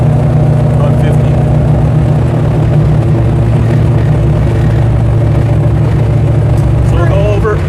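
A 1968 Dodge Charger cruises in fifth gear at around 1,800 RPM and 50 mph, its engine a loud, steady low rumble heard from inside the car throughout.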